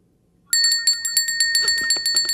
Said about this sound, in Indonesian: Lonceng-lonceng itu dimaksudkan untuk memanggil para sekretarisnya.